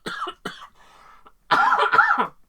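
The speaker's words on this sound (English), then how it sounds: "I don't know where this cough has come from." A person coughing, two short coughs followed by a quieter pause and then a longer, harsher run of coughs, close and loud with no speech.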